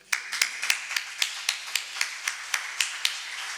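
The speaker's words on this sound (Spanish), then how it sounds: "y a quien yo, Juan, voy a pedir un aplauso para ti en este acto" Audience applause at a formal swearing-in ceremony, heard as a sparse, regular run of about a dozen single hand claps, fairly quiet and close, with no talk.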